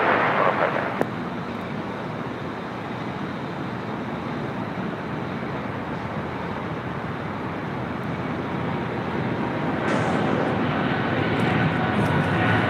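A jet airliner rolls for takeoff on runway 25 right at LAX, its engines producing a loud, steady broadband roar that holds throughout with no talk over it.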